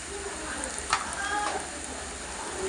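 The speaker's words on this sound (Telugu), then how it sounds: "ఉల్లిపాయలు వేగాలి." Onions frying with ground spices in a pan for a prawn curry, a steady low sizzle running throughout, with a brief stir or clink near the start.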